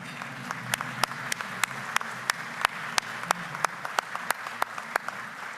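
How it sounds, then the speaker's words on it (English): Sparse, scattered clapping from a small group at a Rotary club meeting, individual claps standing out over a steady room hiss as guests are applauded; no talking. "applause."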